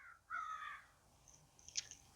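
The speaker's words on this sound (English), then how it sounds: "there's quite a murder of crows hanging out in my yard lately" Crows caw in a backyard, a harsh call early on and a shorter, sharper caw near the end, fairly close against a quiet background.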